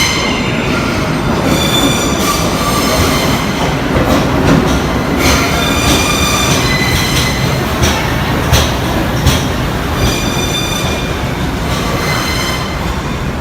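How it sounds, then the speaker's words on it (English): A US subway train pulls into a station with a loud, thunderous roar, rattling wheels and squealing, clattering metal over the tracks, steady and close throughout without any voices. "Listen, the thunderous roar emitted by the US subway when it arrives at the station is like an airplane taking off"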